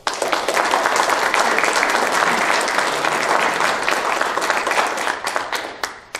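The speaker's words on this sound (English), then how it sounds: "would you give them a round of applause?" A county board candidates' political forum audience gives a full, dense round of applause, loud and continuous before tapering slightly at the end.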